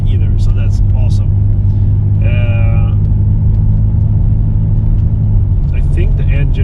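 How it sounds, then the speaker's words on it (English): A car's engine runs steadily while driving, a low continuous rumble with a brief higher whine partway through, heard up close from inside; no one talks. "I think the engine is sounding pretty good and it feels pretty good"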